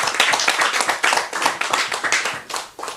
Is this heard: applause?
yes